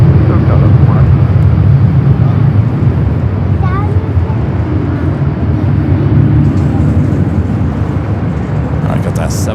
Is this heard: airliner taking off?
yes